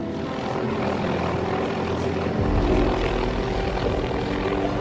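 Steady, loud rotor and engine drone of a helicopter, a continuous low throbbing roar that grows heavier partway through, with no voices.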